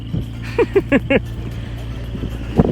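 McLaren 650S sports car on its first drive, heard from inside the cabin as a steady low engine drone, with a few short voiced bursts over it and a brief louder swell near the end.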